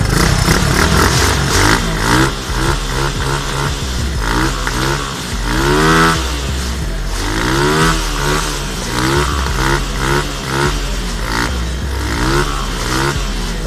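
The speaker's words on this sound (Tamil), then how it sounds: "இதுதான் எங்களோட இன்ஜினோட ஃபஸ்ட்டு ஸ்டார்ட் அப் வீடியோவே" A 125cc go-kart engine on its first start-up runs close by, revving up and down in repeated waves with a rough, buzzy clatter, loud and continuous throughout.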